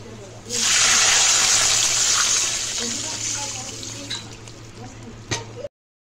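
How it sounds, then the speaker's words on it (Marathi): Milk poured into a pan of fried vermicelli for kheer: a sudden, continuous gushing pour close by that slowly eases, then a couple of light clinks just before it stops. "हे फ्राय झालेलं आहे, याच्यामध्ये आपण दूध टाकूया।"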